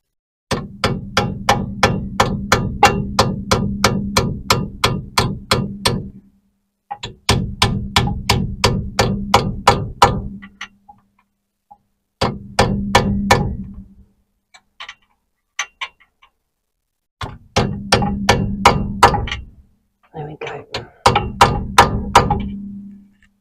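A chisel is hammered against the front brake of a Cortina Mk3, with rapid bursts of sharp metallic taps, each a second or several long and separated by short pauses.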